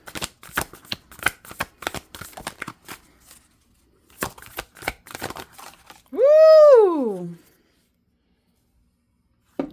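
Tarot cards riffled and shuffled in rapid close bursts of crisp paper flutter, pausing briefly, then a second round of shuffling, followed by a short sung tone.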